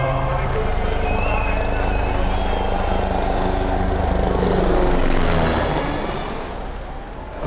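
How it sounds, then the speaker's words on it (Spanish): Helicopters hover over the crowd at the start of the 2023 Le Mans 24 Hours race, a dense continuous rotor and engine roar mixed with loud crowd noise and people talking. "Fijaros los helicópteros, están tirando algo y ahora saltarán."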